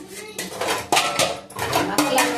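Pots, plates and steel utensils clatter while being washed in a home kitchen, a steady run of close clinks and knocks with several louder bangs, faint voices in the background.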